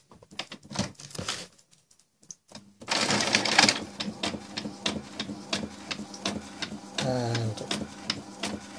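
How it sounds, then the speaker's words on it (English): A label printer feeds out a shipping label in a busy run of rapid clicks, whirs and ticking pulses after a brief quiet start, with a voice speaking a word over it. "as you can see, it's already printing the label out"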